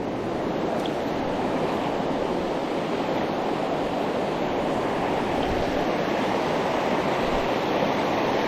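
A river flows with steady rushing water, a broad loud continuous wash with no pauses, close by and without voices.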